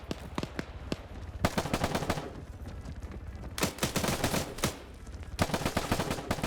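Rapid bursts of automatic gunfire in a PvP shooter video game, sharp cracks fired in dense rattling volleys separated by brief pauses, loud and close.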